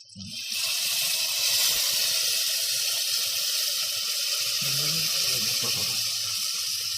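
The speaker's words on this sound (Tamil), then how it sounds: "அப்போ புளி தண்ணி ஊற்றிருக்காங்க" Continuous splashing, hissing tamarind water pouring for several seconds into a fish curry, close and fairly loud, with faint low murmurs underneath.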